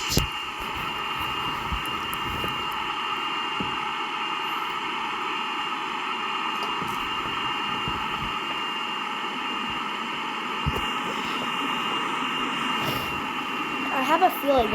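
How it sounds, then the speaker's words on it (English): Steady roar of several jet engines on a Boeing 747 in the Simple Planes flight game, a constant high-pitched whine over a broad rumbling hiss that holds throughout, with brief clicks and a rise near the end. "This is the Pratt & Whitney 747 with 5 engines."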